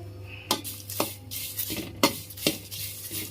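Dried curry leaves tossed into a hot pan for a homemade sambar and rasam powder, with several sharp clinks of a metal spoon against the pan over a steady low hum, close and fairly loud.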